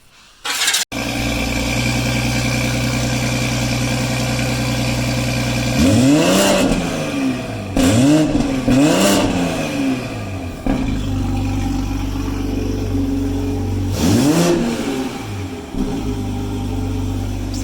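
A 2020 Toyota Supra with a new downpipe exhaust fires up, settles into a loud, close idle, then gets several sharp throttle blips in quick succession and another rev later on.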